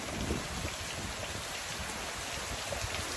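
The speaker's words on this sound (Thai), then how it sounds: "ฝนมาเร็วครับ อายุฤดูร้อนมา มาแล้ว" Steady summer-storm rain falls continuously, a soft, even hiss of drops on surfaces without breaks or voices.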